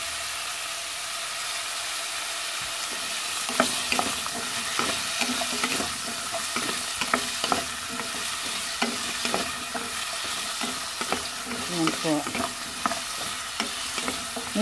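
Squash and eggplant for a Filipino vegetable dish stir-fry in a hot pan, a steady sizzle that runs the whole time with repeated scraping and stirring clatter from the utensil, close and fairly loud, with no talking.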